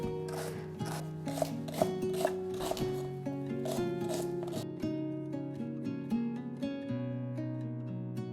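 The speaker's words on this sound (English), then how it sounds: "I want to cut up my rhubarb, lining it up and then cutting it into fairly small pieces" A knife chops raw rhubarb into small pieces on a cutting surface: quick, regular close cuts over background music that stop partway through, leaving only the music.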